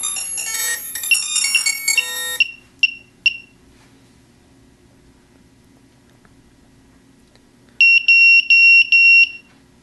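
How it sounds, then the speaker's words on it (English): A microcopter controller on 6S power gives a quick electronic startup jingle, then a few sharp single beeps, a silent gap, and a fast cluster of high warning beeps for a missing receiver. "it's going to start beeping because it doesn't have a receiver"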